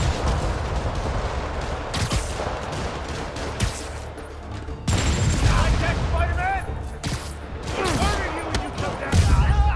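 Rockets and gunfire in a Marvel's Spider-Man fight, a dense barrage of blasts and booms repeating across the stretch, loud and close, with voices shouting through the action.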